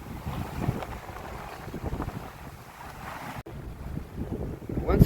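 Wind buffets a microphone aboard a small 14'6 gaff-rigged boat sailing off the Greek coast, a steady rough rush with gusts and faint sea swell underneath.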